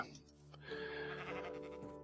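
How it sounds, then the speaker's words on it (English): A sheep bleating in TerraFirmaCraft, the Minecraft mod, with one drawn-out wavering bleat after a brief opening note, faint and alone. "Now I've sheared the sheep"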